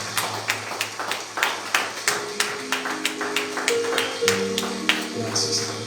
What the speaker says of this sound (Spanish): Dale un aplauso a Él fuerte de alabanza